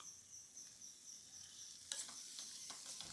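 Chopped dates stirred into boiling vinegar and spice mix for a lemon and dates pickle, giving a faint, steady sizzle with a few soft spoon scrapes near the end.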